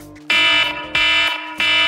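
Kitchen timer being set while coffee steeps, three loud, close electronic beeps in a quick series, each tone steady and bright with short gaps between.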